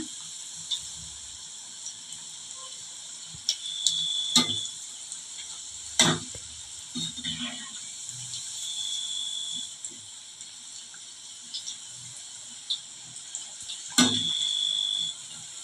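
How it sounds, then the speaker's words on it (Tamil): Cauliflower 65 frying in hot oil, a faint steady hiss broken by a few sharp crackles and pops scattered throughout, no talking. "இது வந்து நல்லா முறை அடங்குற வரைக்கும் கொஞ்சம் நேரம் நல்லா வேகட்டும்"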